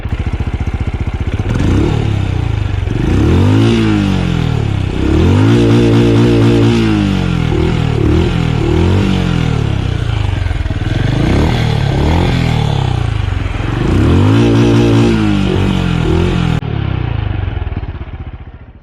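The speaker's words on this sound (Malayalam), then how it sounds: "ഇനി നമുക്ക് ഈ വണ്ടിയുടെ എക്സോസ്റ്റ് സൗണ്ട് കേൾക്കാം" A Benelli Imperiale 400 BS6 motorcycle's exhaust revs repeatedly: close, loud bursts of rising engine roar fall back to a throbbing idle between each rev.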